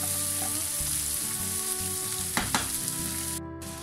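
Continuous sizzling of meat and onion frying in oil in a hot pan, close and steady, with a couple of brief clinks from stirring near the end.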